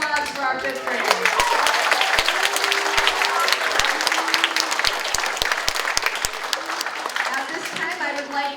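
Sustained audience applause for fifth graders at a school DARE graduation ceremony, a steady, loud crowd of clapping hands with voices and cheers mixed in throughout.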